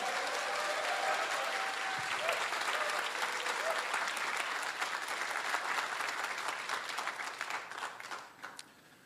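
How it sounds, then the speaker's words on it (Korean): Crowd applause at a policy talk event for candidate Lim Tae-hee, sustained dense clapping across the room that holds steady and then tapers off near the end. "우리 기호 1번 임태희 후보에게 큰 박수로 한번 주십시오"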